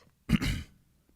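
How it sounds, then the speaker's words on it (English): A single short, sharp sneeze bursts out close to the microphone, a brief explosive puff of breath followed by quiet. "Hold on, I have to sneeze."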